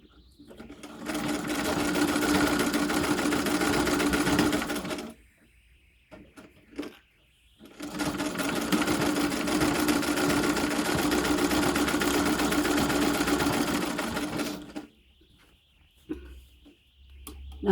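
A treadle sewing machine running in two long bursts of steady, close mechanical whirring and clatter, separated by a pause with light handling noises, a faint high tone lingering in the quiet gaps.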